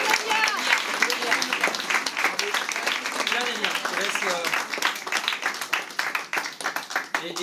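Audience applause at a school inauguration in Évry-Courcouronnes: sustained crowd clapping throughout, with speech and voices mixed in under the claps.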